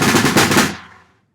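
A single snare drum hit with rattling metal snares, a burst of buzzy noise close up that decays over about a second.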